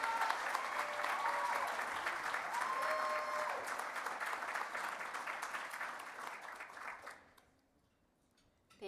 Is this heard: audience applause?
yes